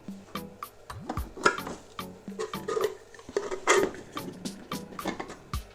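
Brand-new Silvercrest SGR 150 D1 electric grater parts being washed by hand, with irregular plastic clacks, knocks and rattles over light splashing water, close and busy, with no voices.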